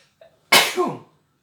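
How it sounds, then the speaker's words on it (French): One sharp, close sneeze with a brief intake before it, a single loud burst that fades quickly into silence. "il y a un petit atchoum"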